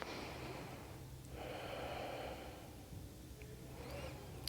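Slow, audible breathing in an open-hip yoga pose, with long airy inhales and exhales close to the ear over a steady background hiss.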